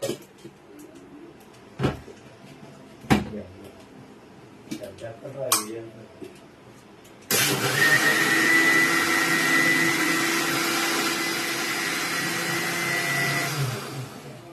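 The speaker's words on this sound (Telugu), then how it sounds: "ఇప్పుడు మనం మిక్సీ పెట్టేసుకోవచ్చు." After a few knocks and clatters amid talk, a kitchen mixer grinder whirs loudly and steadily, blending curd with water in a continuous high-pitched drone that holds to the end.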